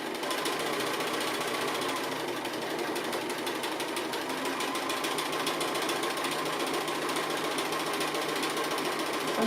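Sewing machine running steadily as it restitches appliqué pieces, a continuous dense mechanical whir with rapid needle ticking throughout, close and fairly loud with no talk.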